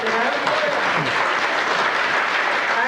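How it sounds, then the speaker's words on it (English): An audience at a Hancock, Maryland magic show gives a round of applause, a dense, even wash of clapping that holds steady for the whole stretch without speech. "let's give Jason, your MC, another round of applause"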